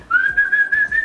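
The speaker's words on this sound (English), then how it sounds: "They'll do the whistle." One person whistles a single loud, clear, sustained tone close by, with slight wavering and no other sound.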